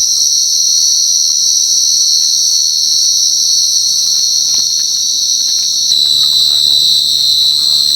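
Dense, continuous cricket chirping fills the air, a steady high-pitched trill from many insects close by, with no voices.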